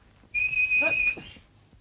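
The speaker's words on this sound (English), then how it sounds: "For heaven's sake, don't whistle." A person whistles a single sustained, steady high note lasting about a second, clear and fairly close, with faint background noise and no talk, in a 1938 comedy film scene.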